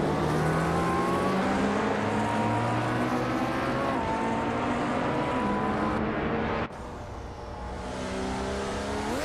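Several race cars in a racing video game roar continuously with layered, shifting engine tones that climb as they accelerate and pass, staying loud throughout with a brief dip near the end.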